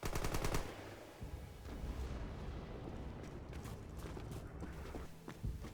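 Gunfire in the Red Orchestra 2 video game on the Grain Elevator map, a dense burst of rapid shots at the start followed by continuous distant crackling shots and booms.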